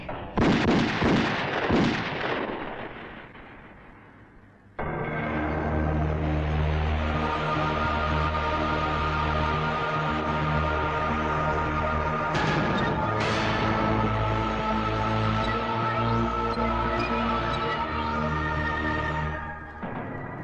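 Loud, sustained volleys of gunfire and booming blasts roll on continuously after a short stretch of noisy rumble, dense and close.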